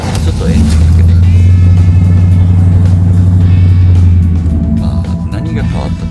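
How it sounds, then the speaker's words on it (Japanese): A 1989 GMC G2500 van's 383 engine with new headers turns over and settles into a loud, steady low rumble that holds for several seconds before easing slightly, close by and continuous. "ちょっとエンジンかけていく"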